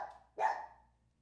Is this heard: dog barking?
yes